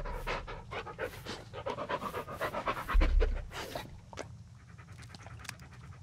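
A dog panting rapidly and rhythmically up close in the Blair Witch video game, loud at first and then tapering off, with a low thump partway through.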